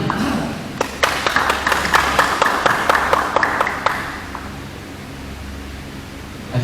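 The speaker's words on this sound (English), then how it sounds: "Round of applause for Team Ashrani." A short round of scattered clapping for Team Ashrani at a certificate presentation, distinct individual claps over about three seconds that then die away into quiet room tone.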